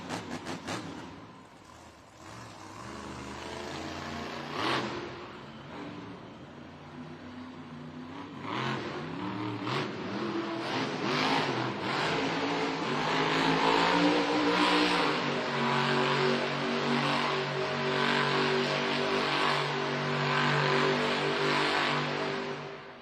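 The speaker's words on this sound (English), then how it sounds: "Very nice Monster Jam Revolutions by Tony Oak and Thunderoris here in a donut competition." Monster Jam truck Thunderoris revs hard while spinning donuts in an arena event in Charlotte, NC. Its engine roar swells and surges in steady bursts over a noisy crowd, growing louder and more sustained toward the end.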